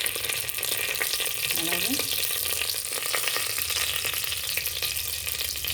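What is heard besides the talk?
bay leaves sizzling in hot oil for goat head curry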